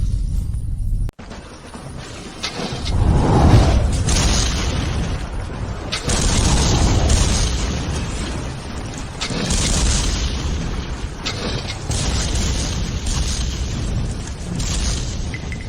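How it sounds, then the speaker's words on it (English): Dramatic bursts of booming blasts and mechanical rumbling from a Gatling siege weapon firing, repeated heavy explosions in quick succession over about fifteen seconds. "This is the Gatling sacred weapon."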